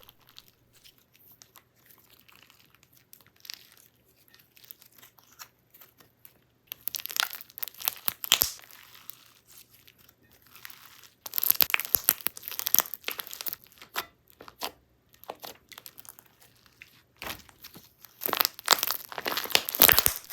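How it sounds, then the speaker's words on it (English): Clear and opaque slime with clay pieces being mixed and pressed by hand, giving bursts of close crunchy, crinkly squishing and popping that come and go in clusters, with no voices. "I love slimes like this with clear and opaque elements to mix together."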